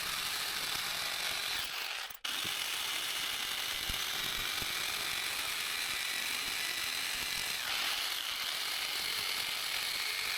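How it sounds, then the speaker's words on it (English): A jigsaw cuts a drawn curved figure out of a wooden board for the upper part of a small pedestal's foot, giving a steady, close, continuous buzzing rasp with one brief drop near the start and no voices. "Then I take the jigsaw and cut out the drawn figure"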